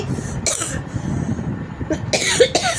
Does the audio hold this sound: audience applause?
no